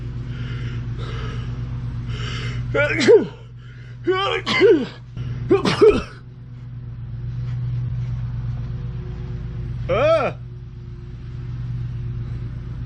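Several sharp, explosive sneezes burst out one after another, with a last one later, over a low, steady engine hum.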